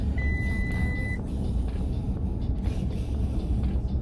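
An Audi's tyre-pressure warning chime for an underinflated rear left tyre sounds once, a short clear tone over a loud steady engine and road drone inside the car.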